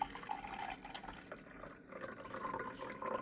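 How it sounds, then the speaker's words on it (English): Plain tap water pours into a glass measuring cup for home acid dyeing, a soft continuous trickle and splash at close range without talking. "I'm going to add enough water to make a cup"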